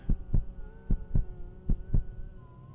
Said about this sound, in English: Based on the heartbeat, I can't tell.